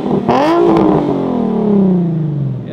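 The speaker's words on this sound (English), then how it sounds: "He's going to give us a couple of revs here." At a modified car show, a loud modified car with a Rocket Bunny body kit revs sharply up, then winds down slowly in a long descending drone, close by.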